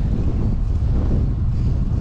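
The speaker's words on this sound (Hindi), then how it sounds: "हवा चल रही है" Steady wind rushing across the microphone while cycling through Rivierenhof Park in Belgium, a continuous loud low roar with no breaks and no talking.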